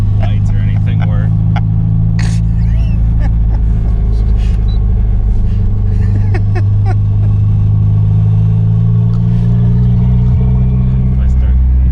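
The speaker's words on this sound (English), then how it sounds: "If I start, you can hear it turbo." A Mitsubishi Starion/Chrysler Conquest turbo sports car, about thirty years old, sits idling loud and close with a deep, continuous rumble, while faint voices come in now and then.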